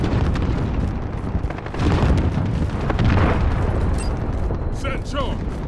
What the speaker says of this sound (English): Enemy cruise missile incoming.